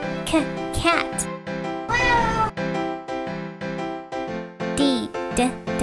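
A cat meows repeatedly, several clear, drawn-out calls of varying pitch coming close together, loud and near, over a steady harmonic background tone.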